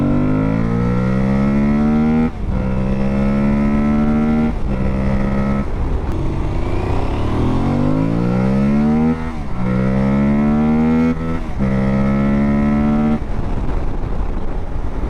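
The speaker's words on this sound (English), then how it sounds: "You see how I'm hitting the rev limiter?" An Aprilia Tuareg 660 motorcycle engine revs up repeatedly into its rev limiter, with rising pitch sweeps broken by short cuts. The sound is loud, close and steady, and no one talks over it.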